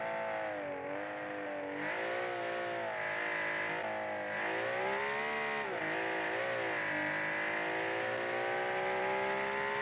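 Race truck engine in a racing video game revving continuously, a loud sustained harmonic drone that rises and falls in pitch with throttle changes, alone without talk throughout.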